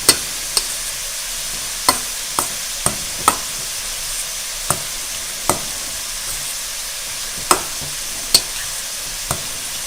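A spoon stirs ricotta cheese into a pot of creamy tortellini and sausage soup, with sharp intermittent clinks against the pot over a soft, steady background hiss.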